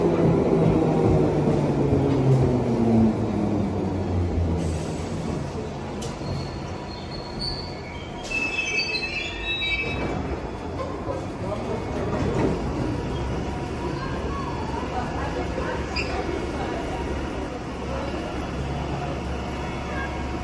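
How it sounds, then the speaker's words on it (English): A 1972 stock Bakerloo line train arrives at Embankment station on the London Underground, a loud continuous rumble of wheels on rails with high metallic squeals around the middle as it slows along the platform. "what you're about to see is a 1972 stock Bakerloo line train coming to Embankment"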